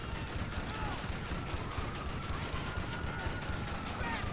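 Assault shotgun fire in GTA Online, a dense, continuous barrage of gunfire under steady background game noise, loud and unbroken throughout.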